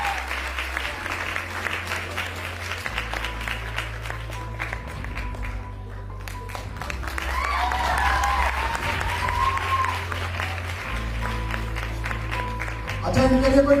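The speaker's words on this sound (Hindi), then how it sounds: "ताली तो बजा दो अच्छे वाली।" An audience at an International Women's Day celebration claps in a sustained round of applause, with a steady low musical drone underneath and voices briefly audible near the end.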